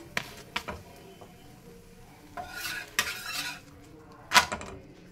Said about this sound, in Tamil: இப்போ முட்டை வந்து அடியில் நல்லா வேகிற மட்டும்